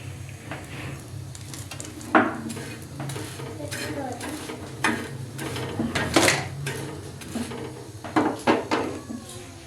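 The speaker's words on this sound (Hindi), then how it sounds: "ये तेल से फ्राई करते हैं।" Slices of bread fry in oil in a pan for a home breakfast, a steady sizzle under repeated clinks and scrapes of a utensil against the cookware, close and busy.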